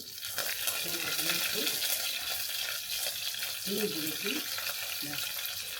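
Mustard seeds and red chillies splutter in hot coconut oil, a dense, steady crackling sizzle running throughout with low voices murmuring intermittently underneath.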